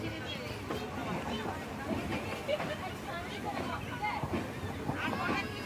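Inside a passenger train coach by a window seat, a slow-moving train gives off a steady rumbling roar with muffled rattles, and the indistinct chatter of passengers is mixed into the noise.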